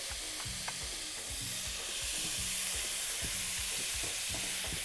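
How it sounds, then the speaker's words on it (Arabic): Onions and minced meat stir-fry in a pan, with a bright hissing sizzle that swells midway and rhythmic scraping strokes of a spatula across the pan bottom. "حط البصل اهو بالشكل ده وابدا اشوح، هحط اللحمه المفرومه"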